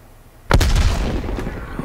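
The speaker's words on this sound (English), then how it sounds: "Can I throw a grenade over?" A grenade detonating in the shooter game Black Ops Cold War: one sudden heavy boom followed by a rumbling tail that fades over about a second, loud and alone.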